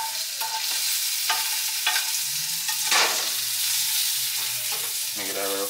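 Food sizzles steadily in a frying pan, with intermittent scraping and clinks of a utensil stirring, fairly close and without voices.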